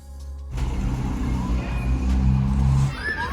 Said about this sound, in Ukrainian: Ну що ж, завожу машину і поїхали.